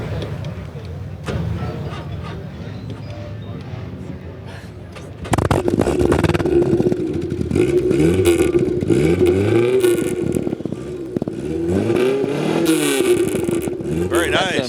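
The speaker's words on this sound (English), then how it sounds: "That's an amazing exhaust." A 1966 Lotus Elan S2 engine idles with a rough, muffled exhaust burble, then roars into loud, repeated revs that rise and fall, with voices underneath, at a concours event.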